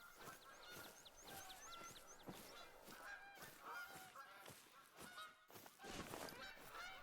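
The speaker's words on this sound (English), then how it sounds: "I bet you can't turn off the geese noises in this game" A flock of geese in the hunting game TruHunt on the Hirschfelden map, honking repeatedly in overlapping calls, some near and some farther off, quietly without voices.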